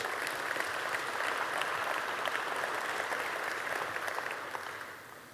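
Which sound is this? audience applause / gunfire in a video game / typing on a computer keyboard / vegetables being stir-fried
audience applause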